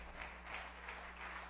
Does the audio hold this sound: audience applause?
yes